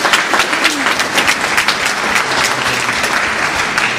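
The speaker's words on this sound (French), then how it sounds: "on peut applaudir." An audience applauds loudly at an outdoor live nativity scene on Christmas Eve in Sarrancolin. The clapping is full and dense from many hands, with no break across the whole span.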